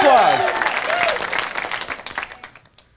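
Studio audience applause breaks out on the talk show Goodnight America, a dense burst of clapping that swells then fades away over a few seconds, with a voice heard over the start.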